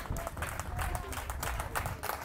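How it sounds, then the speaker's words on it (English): A crowd at a district championship high school baseball game cheers and claps loudly and steadily, a dense wash of applause and shouting close by. "Crowd going nuts to my right"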